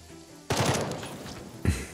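Gunfire in the tactical video game Jagged Alliance 3: two loud, close bursts of shots, one sustained rattle starting abruptly and a second sharp burst near the end.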